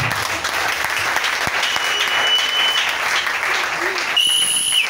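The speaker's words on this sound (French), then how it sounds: "Est-ce qu'on peut acclamer pour la parole?" A church congregation applauds during a sermon, a loud, steady wash of clapping hands that fills the room for the full five seconds with no pause.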